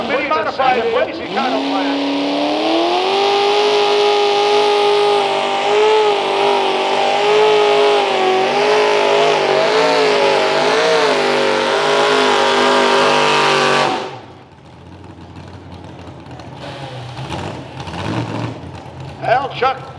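Mini rod tractor engine revving hard during a pull at Milledgeville, Illinois, a loud sustained wavering roar for about thirteen seconds that drops off abruptly when the throttle is pulled back, leaving crowd noise and an announcer talking.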